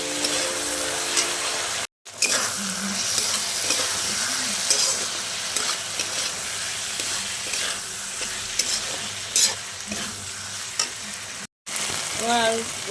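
Egg chow mein ingredients stir-fried in a pan with a splash of soy sauce, giving a steady loud sizzle with repeated scraping and stirring strokes throughout and no talking.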